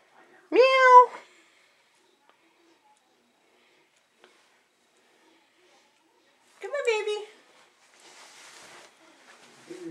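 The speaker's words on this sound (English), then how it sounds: "I see a kitty!" A cat lying hidden under a mattress gives two short, clear meows several seconds apart, close by, with near silence between them.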